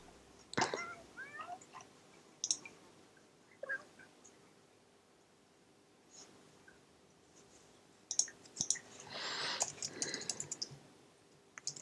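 Cat meows from a pet in The Sims 4 game, a few short mid-pitched calls spread across the clip among soft clicking from menu selections, fairly quiet and without talk.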